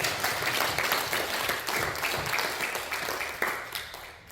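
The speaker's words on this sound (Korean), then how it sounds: "이렇게 해주신 하나님께 영광의 박수" A church congregation applauds during a Sunday sermon: a sustained, full round of clapping that stays dense for several seconds before thinning out and tapering off at the end.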